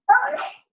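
A single short, sharp sneeze, close and loud, then silence.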